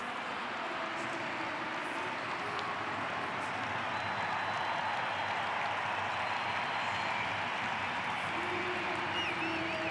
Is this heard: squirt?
no